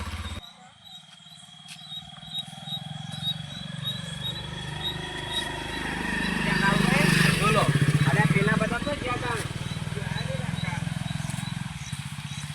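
A motorcycle engine starts and runs with a steady rumble that swells louder midway, with voices talking over it in an outdoor village setting.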